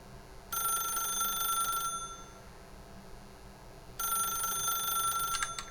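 A phone's electronic bell rings in The Stanley Parable video game, two clear bursts of about a second and a half each with a quiet gap between them, alone and fairly close.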